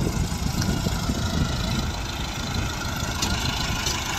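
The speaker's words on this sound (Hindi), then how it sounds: "यह वाइटल ग्रुप का ट्रैक्टर" A Massey 385 tractor engine running with a rotavator attached, a steady, loud low rumble with constant vibration and no pauses, with no talking over it.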